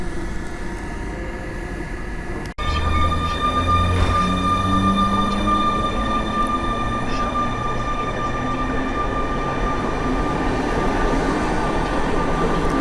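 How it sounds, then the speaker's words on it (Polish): A Czech sleeper train stands at a station, giving off a steady mechanical hum with tonal whines and a sharp clunk early on, then a continuous loud drone with faint voices. "To jest czeski pociąg"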